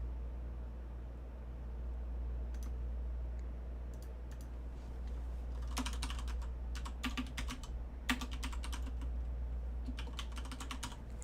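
Soft, irregular keystrokes on a computer keyboard come in scattered bursts and quick clusters over a low, steady background hum, nearby and fairly quiet.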